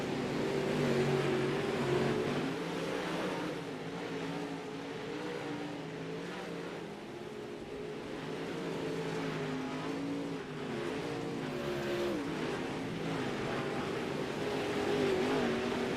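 Late model race cars roar around the Cedar Lake track in a steady, loud, continuous engine drone with shifting pitches as the field circles, no talk over it.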